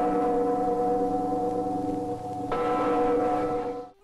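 Church bells ring steadily in a Mexican village, a sustained metallic toll with layered overtones, loud and close, with a fresh strike near the midpoint before the ringing fades out.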